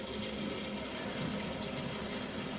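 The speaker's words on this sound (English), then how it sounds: "So let some water come through." Steady, full rush of water running from a kitchen mixer tap, close and continuous with no pauses and no voices.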